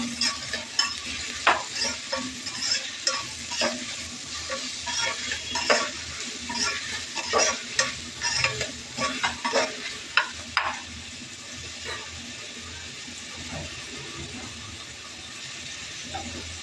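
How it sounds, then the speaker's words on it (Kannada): Onions sizzling in a pan for rava roti, a bright steady frying hiss broken by frequent scraping stirs and clicks of a utensil, close and fairly loud, easing into a calmer sizzle near the end. "ಈರುಳ್ಳಿನ ನಾನು ರವೆ ರೊಟ್ಟಿಗೆ ಒಂದು ಸ್ವಲ್ಪ ಫ್ರೈ ಮಾಡ್ಕೊತೀನಿ"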